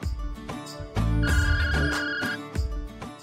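A mobile phone rings with a bright, melodic electronic ringtone that repeats in short phrases, close and clear with no talk over it.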